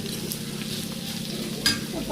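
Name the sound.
frying with tomato being added to the pan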